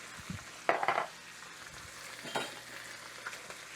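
Flour and salt being stirred into chicken in a Misen Dutch oven, a faint sizzle with a few brief scraping stirs and light clinks of a utensil against the pot.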